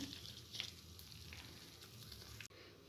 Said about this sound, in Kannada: ಈಗ ಒಗ್ಗರಣೆ ಆ್ಯಡ್ ಮಾಡ್ತಿದ್ದೀನಿ.